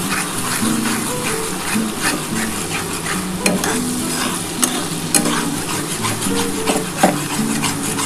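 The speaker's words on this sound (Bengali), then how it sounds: "একটু মশলাটা কষিয়ে নিব" Ground spice paste for mutton curry fries in a pan with a steady, dense sizzle, while a spoon scrapes and stirs continuously and knocks the pan now and then.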